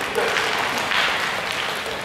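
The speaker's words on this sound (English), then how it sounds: "Give yourselves a round of applause" A short burst of hand-clapping from a crowd, a steady patter of applause that fades slightly toward the end.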